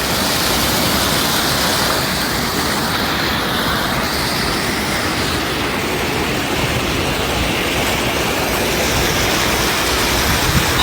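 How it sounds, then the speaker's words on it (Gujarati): Water rushes steadily into the Bhogavo river in Gujarat, a dense, unbroken roaring torrent that stays loud and close throughout with no voices over it. "છેલ્લી 12 કલાકથી કન્ટિન્યુ આ પાણી જાય છે."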